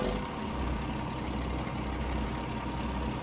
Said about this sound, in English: the engine is a 330 horsepower Cummins L10.